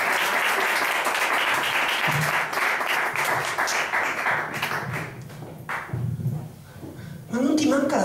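A crowd applauds loudly and continuously at a drag cabaret show in Milan, the clapping thinning briefly before swelling again, with voices cutting in near the end.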